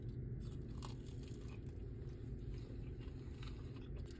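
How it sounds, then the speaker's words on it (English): Someone bites into Little Caesars Crazy Puffs with cheese, giving faint, close crunching and chewing sounds over a steady low background hum. "Let's go in for a dry bite."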